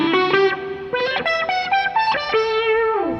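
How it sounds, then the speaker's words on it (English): A synth lead patch on a Vox Starstream modeling guitar plays a quick run of bright, buzzy sustained notes with sliding pitch changes and a reverberant tail, loud and close. "Synth lead."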